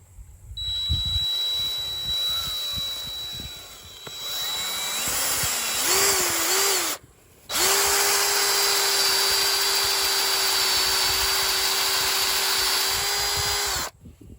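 A power drill bores while a fence gate is installed, its loud, close whine rising and falling, then cutting out briefly before one long, steady run with no talking.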